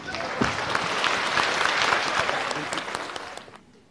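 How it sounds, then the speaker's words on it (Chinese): A theatre audience at a Deyunshe crosstalk comedy show applauding, a full, sustained burst of clapping that swells and then tapers off toward the end. "掌声接一下啊"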